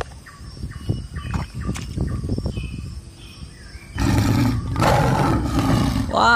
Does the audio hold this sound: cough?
no